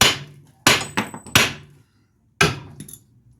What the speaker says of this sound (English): Couple pops on the hammer.